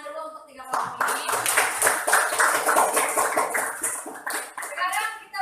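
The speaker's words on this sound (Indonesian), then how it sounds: "tepuk tangan dulu untuk 3 kelompok ini." Classroom clapping for three student groups, a burst of many hands clapping unevenly from near and mid distance, with children's voices chattering underneath throughout.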